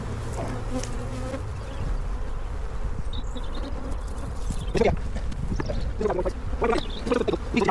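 Honey bees buzz densely around a heavy hive as it is lifted and moved, a continuous close drone with bumps and knocks from handling partway through.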